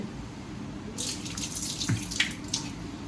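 Tap water runs into a sink while raw chicken is washed at home, a steady broad wash with splashy bursts after the first second, moderately close, no talk over it.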